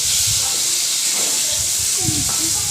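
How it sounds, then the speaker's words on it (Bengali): Pieces of pointed gourd (potol) fry in oil with a loud, steady, close hiss and sizzle, while a voice talks faintly underneath. "তা পটলটা একটা সাইড ভাজা হয়ে গেছে এইভাবে উল্টে পাল্টে দিয়ে সব সাইজগুলো একটু করে ভেজে নেব"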